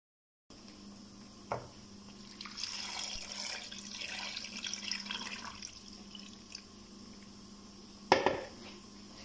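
Water splashes and trickles into a metal pot over lemons, soft and close, with a few clinks of cookware and a sharper clatter near the end.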